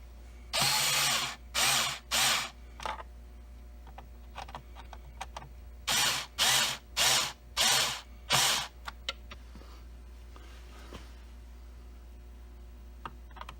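Power tool tightening screws on an E-100 scooter throttle: several short, loud whirring bursts in two rapid clusters, separated by pauses and small clicks of handling, close up with no talking.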